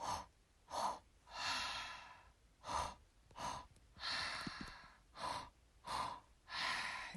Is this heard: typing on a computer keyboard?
no